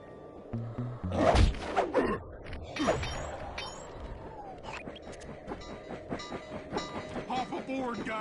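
In a Sly Cooper video game, a train rumbles along the rails with rhythmic clattering and mechanical clanks, fairly loud at first and then settling into a steady running noise.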